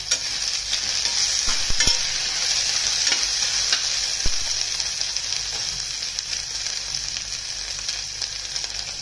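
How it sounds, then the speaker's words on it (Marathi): Chopped onion sizzles steadily in hot oil for a rustic ridge gourd curry, with a constant bright hiss and occasional soft stirring scrapes, close and alone without any voices. "कांदा पण नरम होईपर्यंत चांगला फ्राय करून घ्यायचा तेलामध्ये।"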